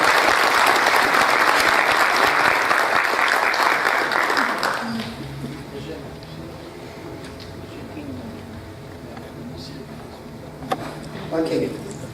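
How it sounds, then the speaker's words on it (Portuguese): Ceremonial audience at a Brazilian heraldry and humanities ceremony applauds a commendador, a loud dense burst of clapping for about five seconds that fades into a quiet room with faint murmurs and a brief knock near the end. "Nossos aplausos para o comendador Hernandes Constâncio."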